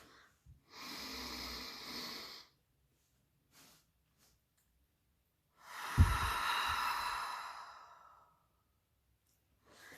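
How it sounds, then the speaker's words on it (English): Two slow, deep breaths, each a long airy exhale lasting a couple of seconds, separated by quiet pauses; close and soft, with no talking. "You practice breathing like that."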